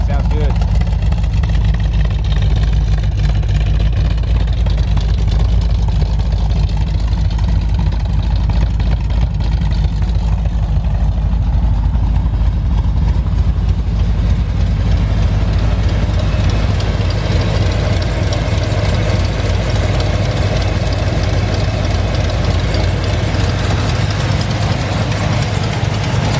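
A 1972 Dodge Challenger sits idling, its low heavy engine rumble steady and close, while someone talks over it for most of the stretch.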